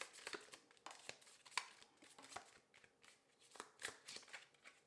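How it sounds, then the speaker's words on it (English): Tarot cards are shuffled by hand in quick, papery riffling bursts with soft flicks and slides, close and fairly quiet, with no talking. "Let me just shuffle this other one."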